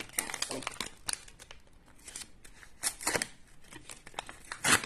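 Paper surprise packages being opened by hand, with bursts of crinkling, crumpling and tearing paper, several close and fairly loud rustles clustered near the start, middle and end, and light talk heard between them.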